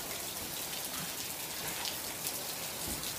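Steady rain falls in Ciwidey, Bandung, a soft, even hiss of drops on surfaces that continues throughout with no voices.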